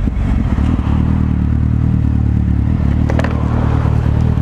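A motorcycle runs steadily at close range, with a loud, constant engine drone, low rumble and rushing wind noise throughout, alongside a little clatter and no talking.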